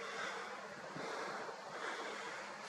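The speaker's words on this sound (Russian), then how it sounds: "Ветер очень сильный." Very strong wind roars outdoors at night, a dense, steady rushing gust buffeting the microphone with no voices over it.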